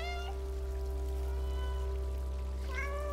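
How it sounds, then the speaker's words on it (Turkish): A cat meows in the video game Stray, with two short meows, one at the start and one near the end. Both sit over a steady, low electronic hum and a droning game background. "miyavlayınca tepki veriyor bunlar"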